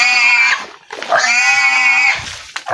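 Pig on a farm squealing and oinking while it is carried and loaded, two long loud squeals close by separated by a brief gap, with no talk over them.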